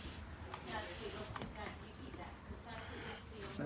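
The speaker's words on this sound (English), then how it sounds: "So I'm going to spray this out just a little bit because I am getting a lot of color here" Paint being sprayed out onto furniture while blending Dixie Bell paint: a steady, close hiss with a few sharper bursts of spray, running almost without pause.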